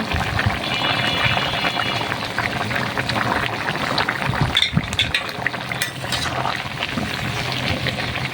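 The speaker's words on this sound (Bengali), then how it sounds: "পেঁপেতে ঝোল দিয়ে দিয়েছিলাম, ঝোলটা এখন উতলে গিয়েছে।" Papaya curry broth with shrimp bubbling at a rolling boil in a pot, a steady close simmering hiss with a few brief clinks and stirring sounds midway, no voices.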